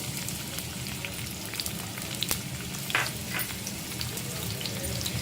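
Half a cup of onion frying in two spoons of hot oil for malai chicken handi, a steady dense sizzle with scattered crackles and pops throughout, no talking.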